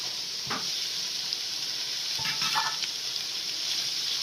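Garlic, ginger and green chilli sauté in hot oil for a Kerala-style chicken curry, a continuous soft sizzle and hiss with a couple of brief stirring scrapes, nearby and fairly quiet.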